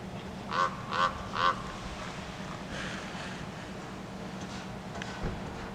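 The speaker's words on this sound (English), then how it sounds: "We got crow drama up here. It's a crow argument." Crows call and squabble outdoors near a ski area in Santa Fe: three short, harsh caws close together, then fainter scattered calls over a steady rumble.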